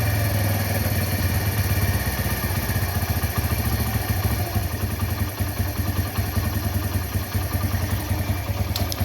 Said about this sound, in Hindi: बाइक स्लो के अंदर प्रॉपर स्टार्ट है